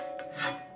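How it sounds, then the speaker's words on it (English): A file is draw filed across a folding shovel blade, two short rasping strokes, the second longer and louder, close up with no talk. "draw filing"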